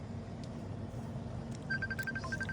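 A mobile phone rings at a lakeside fishing resort in Thailand, a repeating electronic tone that starts partway through and sits fairly clearly above steady outdoor background noise.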